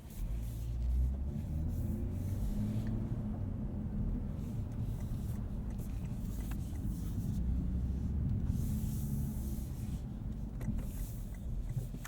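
A 2022 Lexus RC 350 F Sport AWD drives on the road, heard from inside as a steady, low engine and road rumble with even tire noise and no talking.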